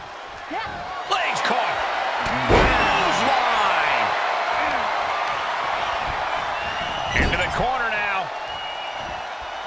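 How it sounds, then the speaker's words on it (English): Repeated heavy stomps land on a wrestler hung in the tree of woe in a wrestling video game. Sharp thuds arrive around the two-and-a-half and eight-second marks over a continuous crowd roar, with scattered cries mixed in. "Stuck in the tree of woe and just having their face stomped"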